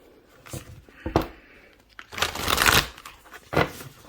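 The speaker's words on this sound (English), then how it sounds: "One more shuffle." Tarot cards being shuffled by hand in a quiet room, several bursts of riffling and sliding with short pauses between, close and fairly soft, with no talk.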